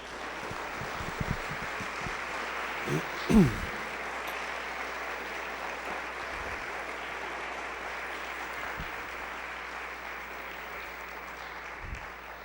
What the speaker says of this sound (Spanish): ¿Quién le da un aplauso al Señor por el fuego?